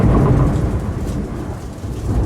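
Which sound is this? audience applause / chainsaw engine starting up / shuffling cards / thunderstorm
thunderstorm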